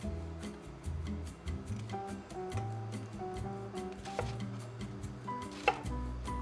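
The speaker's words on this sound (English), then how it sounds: "Probably chopping too much red onion." Red onion is chopped on a board for a loaded veggie macaroni salad, a steady run of quick knife taps with a few sharper clacks over a low hum of background music, and no talking.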